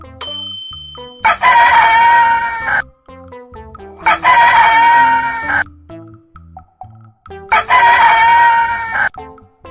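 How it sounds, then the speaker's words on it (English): A rooster crows loudly three times, each long cock-a-doodle-doo separated by pauses filled with light tinkling music. "Rooster."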